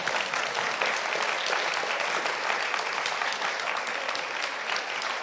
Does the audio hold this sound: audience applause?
yes